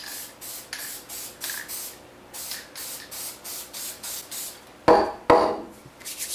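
Short bursts of spray paint on craft foam hiss in a quick, regular rhythm, followed by two louder, longer sprays near the end, close up.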